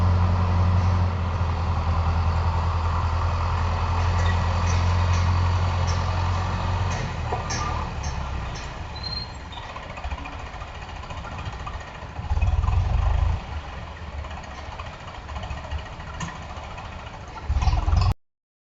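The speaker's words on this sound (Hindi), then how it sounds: "हम दोनों ट्रैक्टरों को खेत की तरफ लेकर जा रहे हैं।" A tractor engine drones steadily at close range while moving into a field scattered with dry grass and straw, a loud continuous low rumble that swells briefly midway and again near the end.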